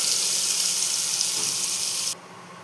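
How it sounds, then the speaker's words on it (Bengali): Chopped onion frying in a pan makes a bright, steady hiss that stops abruptly near the end, close and without voices. "পেঁয়াজটা হালকা ভাজা হয়ে গেছে,"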